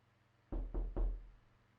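Three sharp knocks on a door in quick succession, fairly close and loud, in an otherwise quiet room.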